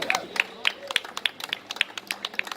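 A small audience at a festival poster unveiling gives a short, sparse round of applause, with individual claps spaced out and fairly close, with no talk over them.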